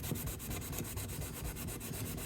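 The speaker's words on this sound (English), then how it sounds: "So I'm actually going to sand this down, and we're going to try getting a better finish" Continuous hand sanding of flaking paint off a car part, a rough rasping scrape in quick regular back-and-forth strokes, close and steady with no talking.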